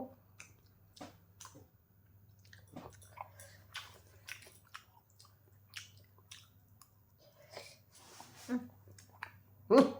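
Chow mein being eaten at close range, with soft wet chewing, slurping and clicks scattered through the moment, plus a louder burst near the end, while a man and woman chat quietly between bites.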